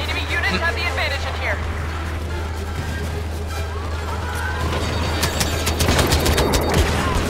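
Turret gunfire during a Star Wars Battlefront multiplayer team deathmatch, scattered shots and laser bursts over steady battle din, with a voice talking and sounds thickening near the end.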